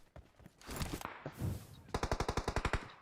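Automatic gunfire in the PUBG Mobile game: scattered shots build into a loud, rapid, evenly spaced burst of about a dozen rounds, close and dominant.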